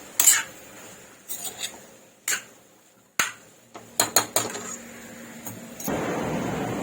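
Bottle gourd and chana dal being stirred in a pan, giving scattered scraping and clinking strokes of a spoon against metal, close and fairly loud, then a steady soft rustle of moving food near the end.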